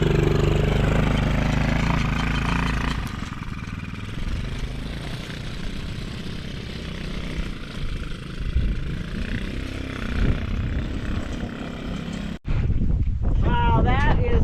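A four-wheeler ATV engine drones steadily nearby during a test drive, buffeted by heavy wind noise. The sound cuts off briefly near the end.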